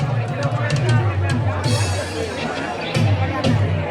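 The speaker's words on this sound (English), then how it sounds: "mamma mia, but just look at this crowd" A dense crowd at an Italian village festival fills the air with steady chatter and overlapping voices, close and loud, with a nearer voice speaking over the babble.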